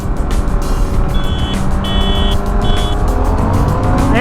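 Harley-Davidson Sportster S and a 600 sport bike accelerating hard in second gear from a 40 mph roll, a loud rising engine roar with a high whining tone breaking in and out, no talking.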